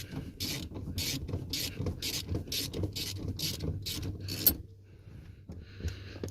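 A ratchet wrench loosens a 10 mm seat belt bolt inside a 2000 Honda Civic, giving a steady run of about ten close, evenly spaced metallic clicks that stop abruptly, followed by a brief quiet rattle.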